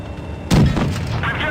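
In a tank combat video game, a single heavy cannon blast booms out suddenly and loud, its rumbling tail fading over the next second beneath a speaking voice.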